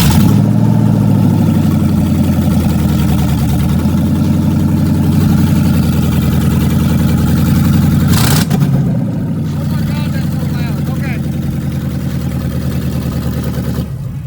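An old car engine with no exhaust fitted runs loud and rough close by, a steady throbbing idle with a brief rev spike partway through before settling back to a slightly quieter idle.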